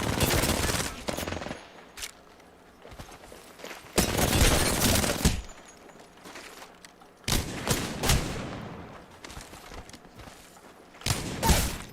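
Gunfire in a video game shooting match, with repeated loud bursts of automatic fire and clustered shots close up, separated by quieter gaps.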